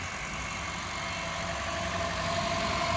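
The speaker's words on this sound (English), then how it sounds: "We got the engine replaced, and this thing is running beautiful again." A stick-shift car with a freshly replaced engine idles smoothly, giving a steady, even hum with a low rumble that holds constant throughout, close by and with no voices.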